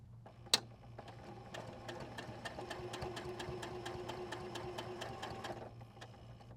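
A domestic sewing machine stitches a quilt seam in a quick, even run of needle strokes lasting several seconds, preceded by a sharp click.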